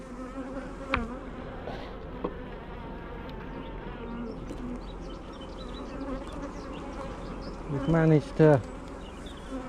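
Honeybees buzz steadily around a new hive in a continuous, moderately loud drone, with a few nearer passes and a person briefly speaking.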